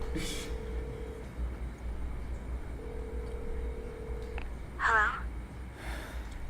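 Telephone in Devil May Cry 5 ringing in electronic trilling bursts, with a long tone repeating twice over a low hum and a voice speaking briefly in between.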